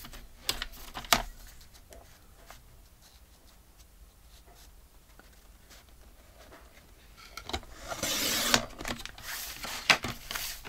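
Scissors snip a small piece of paper off a handmade file folder journal: soft, close, irregular cutting clicks and rustles, growing louder near the end.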